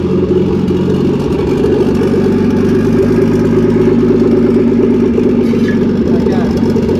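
A Nissan Datsun Bluebird 910 with an RB20DET engine idles steadily at about 800 rpm, a constant rumbling drone with light mechanical clatter running throughout.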